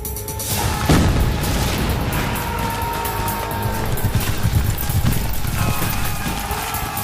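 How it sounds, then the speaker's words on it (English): A Civil War artillery barrage of enemy fire during the Gettysburg battle, with the Peach Orchard advance toward Cemetery Ridge: dense, continuous rumbling booms and crackling blasts, loud and sustained for about seven seconds. "Barksdale and Lloyd advance 600 yards through a barrage of enemy fire"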